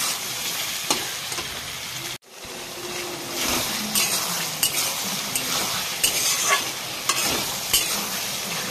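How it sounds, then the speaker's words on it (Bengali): Potatoes being stir-fried in a pan for ghugni, a loud close sizzle that flares as they drop in, followed by steady frying with rhythmic scrapes and clinks of the spatula. "আলুটা দিয়ে দেবো এবার এর মধ্যে, ভালো করে একটু কষে নেবো এবারে।"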